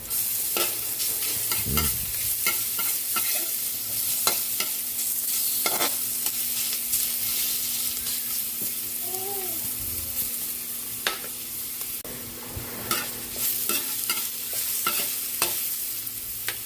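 Garlic and ginger sauté in an oiled pan while being stirred, giving a steady low sizzle with repeated scraping and clinking strokes of a utensil throughout, fairly close and with no talking.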